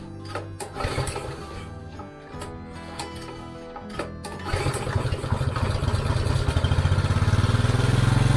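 A Honda GX engine on a BCS two-wheeled tractor sputters through a few uneven firing bursts, then catches and settles into a fast, loud, steady chugging idle close by.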